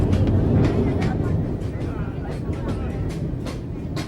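Train rumble from a Telugu film comedy scene, a steady broadband roar with rail clatter that holds throughout while people talk over it.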